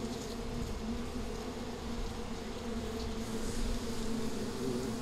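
Honeybees buzz steadily inside and around a hive, a dense, even hum of many insects close by, continuous and without voices.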